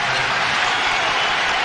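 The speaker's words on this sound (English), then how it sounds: "The crowd has been so into it all game." Arena crowd at a 2005 Bulls versus Wizards playoff basketball game, a dense, loud, continuous wash of applause and cheering that fills the space without pause.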